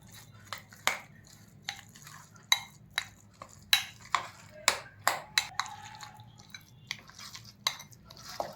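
Mashed taro paste being mixed with sugar in a bowl, a spoon scraping and tapping sharply against the sides in irregular clicks, close and fairly quiet.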